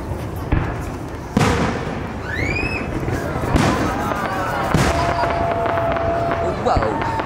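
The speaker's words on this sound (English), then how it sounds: "Are you looking at all these fireworks over there?" Fireworks over Lake Siskiyou pop and crackle at a distance, with rising whistles and scattered bangs, while people talk and murmur nearby.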